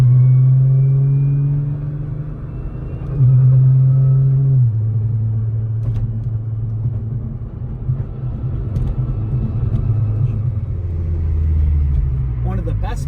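A built 1000-horsepower BCP Nissan GT-R cruising with a loud exhaust, its low steady drone shifting pitch through gear changes, a close continuous rumble with a brief surge in the middle.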